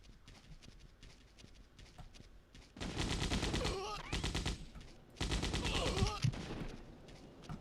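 Gunfire in the video game Codename Eagle, with bursts of rapid automatic shots in two dense loud stretches, separated and preceded by quieter ambient game sound.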